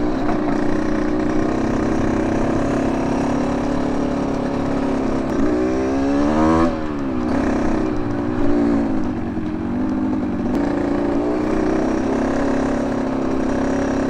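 An enduro motorcycle accelerates hard, its engine loud and close, rising and shifting pitch as it revs through gears and holds a steady drone.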